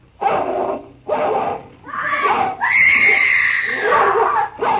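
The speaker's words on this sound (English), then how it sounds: "A woman fighting with a dog." A radio drama sound effect of a woman fighting with a dog: loud, close dog barks and snarls in bursts, then a long, shrill woman's scream that rises and continues over the barking.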